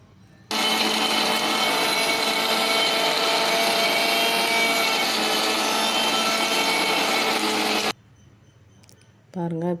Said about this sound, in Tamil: இப்போ நம்ம வேர்க்கடலையை சேர்த்து அதையும் நல்லா கிரைண்ட் பண்ணிக்குவோம்